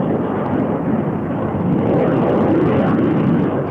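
A Grumman F-14 fighter jet roars past, a loud continuous broadband rush of engine noise that stays steady and close throughout without pause.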